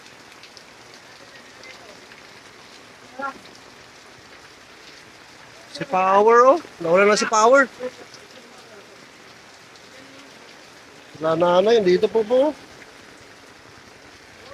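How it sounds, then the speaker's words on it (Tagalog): Heavy rain pours down around a tarpaulin shelter as a steady, soft hiss throughout, while people talk over it at intervals. "Lalong lumakas ang ulan"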